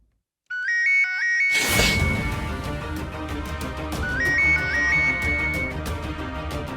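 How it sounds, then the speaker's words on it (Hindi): Electronic phone ringtone chiming a bright repeating melody, joined by a louder musical backing that keeps ringing steadily throughout. "Sir phone."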